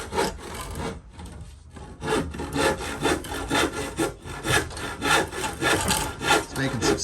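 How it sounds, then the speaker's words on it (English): A child saws a wooden board clamped in place with a hand saw, making steady rasping back-and-forth strokes in an even rhythm after a brief pause near the start. "good luck with the saw there"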